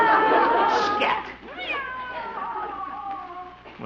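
A cat meowing as a radio show sound effect, a drawn-out wavering meow followed by a second rising, whining cry, close and clear over a faint background hum.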